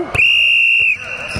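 A referee's whistle at a youth basketball game gives one loud, steady blast of just under a second, up close, with faint gym background noise after it.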